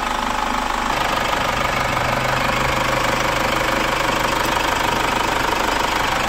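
A Chevrolet Captiva facelift AWD diesel that is hard to start, smokes and pulls weakly idles steadily just after starting, with a close, continuous rough clatter and no voices.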